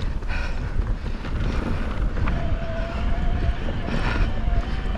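Cold gusty wind buffets the microphone of a rider on an e-bike during a mountain bike lap, a constant low rumbling roar that swells and dips, with no speech over it.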